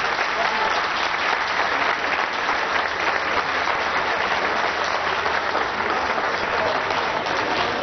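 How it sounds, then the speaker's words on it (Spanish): Audience at a brass band and orchestra event in Tultepec applauding: a dense, continuous wash of clapping from a large crowd, loud and even throughout with no gaps. "que sea con el aplauso de todos los aquí presentes"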